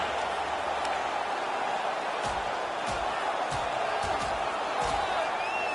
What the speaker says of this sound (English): Crowd on their feet as they drop the gloves